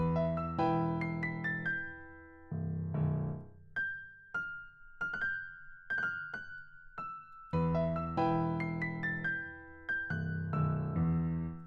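Piano top melody for a dark trap beat programmed in FL Studio, with struck chords and single notes ringing out in phrases, a quieter sparse middle section, moderately soft and solo.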